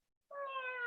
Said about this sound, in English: The cat mewed in answer